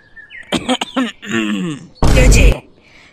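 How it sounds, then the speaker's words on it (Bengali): A single harsh cough bursts out close to the microphone after a few moments of someone speaking. "খুব কাশি পেয়েছে নাকি?"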